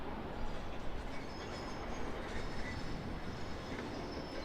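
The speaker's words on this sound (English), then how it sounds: "Thai Airways Airbus A350-900," Thai Airways Airbus A350-900 departing Sydney's runway 16 right, a steady broadband engine roar heard from a distance with no talking.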